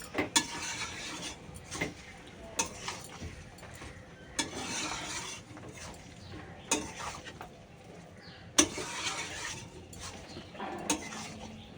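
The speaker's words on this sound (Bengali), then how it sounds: "ধনে পাতাটা দিয়ে নাড়াচাড়া করে ফেলি" Curry being stirred in a pan after fresh coriander leaves go in, a spoon scraping and clinking against the metal in repeated bursts over a faint sizzle, with no voices.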